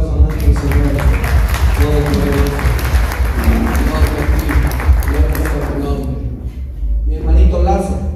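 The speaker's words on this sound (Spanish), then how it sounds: "¿Cuánto le da un fuerte aplauso a nuestro Señor?" Congregation clapping inside a church during a wedding service, a loud, busy patter mixed with voices calling out and talking over it, dropping briefly near the end before rising again.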